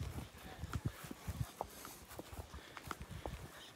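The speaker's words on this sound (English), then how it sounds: "I think all but two of us opted for the horse ride." Horses' hooves clip-clopping on a guided horse ride through Somoto Canyon in Nicaragua, a faint, steady, uneven patter of many hoof strikes close by over soft outdoor background noise.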